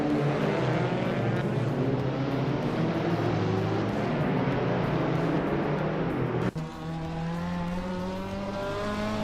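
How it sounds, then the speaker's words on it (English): A 2014 Suzuki Swift racing car engine in a video game drones and whines at high revs, steady and loud, with a brief sharp dip before the pitch climbs again. "King Root is driving a Suzuki Swift from 2014."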